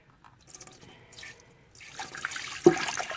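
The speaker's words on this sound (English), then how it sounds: "I'm going to pour water in until it goes above" Water poured into a Nesco canner splashes and trickles, starting quiet and building to a louder, steadier gurgling stream with a distinct plop near the end, and no voices.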